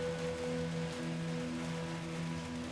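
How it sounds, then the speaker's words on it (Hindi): Steady rain falling at an ashram, an even wash of drops that continues throughout at moderate distance, with faint sustained tones in the background. "देखो बारिश हो रही है इस समय, बादल गरज रहे हैं"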